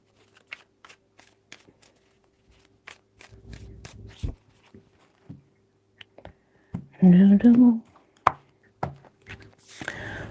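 A tarot deck is handled and shuffled quietly, with scattered light taps and soft card rustles. A person speaks briefly partway through, and a last burst of shuffling closes it.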